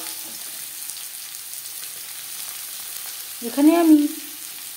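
Chopped onions fry in oil in a wok that previously held fried fish, a steady soft sizzle running throughout, while someone speaks briefly near the end over the frying.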